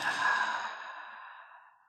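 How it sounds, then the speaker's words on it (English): A long slow exhale out through the mouth during a yoga flow, one soft airy breath that fades out gradually, close and alone. "Exhale it out your mouth."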